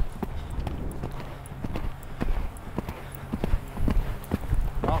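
Horse hooves clip-clop steadily and close by during a riding lesson, a regular rhythm of sharp impacts over a low background rumble.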